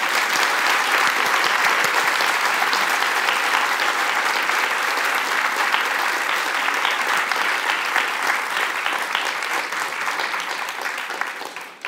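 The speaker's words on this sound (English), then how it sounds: "Give them a very big round of applause." Sustained, loud audience applause closing a talk at a festival event, a dense steady wash of many hands clapping for about twelve seconds before tapering at the very end.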